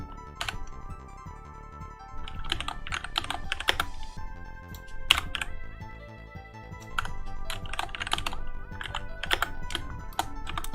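Rapid, irregular typing on a computer keyboard, keys clicking in quick bursts and short pauses over a steady background, close and fairly loud with no talking.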